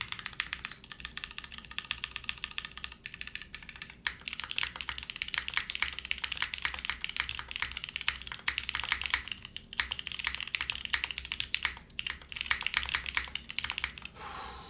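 Steady, fast typing on a Mode SixtyFive mechanical keyboard with Cherry switches in top mount, dense clacky keystrokes running continuously and close up, with no voices.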